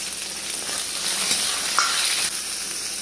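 Curry leaves and cumin sizzle and crackle in hot oil, a steady bright hiss with a couple of sharper pops, close up and uninterrupted.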